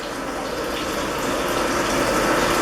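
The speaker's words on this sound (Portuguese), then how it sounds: "Agora eu verifico aqui que está saindo água no pulverizador." Water sprays steadily from an agricultural crop sprayer run in test simulation mode, a continuous loud hissing gush that builds slightly over a few seconds with a pump hum beneath.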